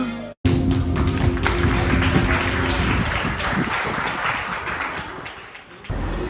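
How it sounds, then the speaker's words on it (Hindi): Strong applause from an audience at a cultural performance program, loud and continuous for several seconds before tapering, with music fading out beneath the opening and a voice faintly present. "एक बार फिर से जोरदार तालियां एक बेहतरीन प्रस्तुति के लिए"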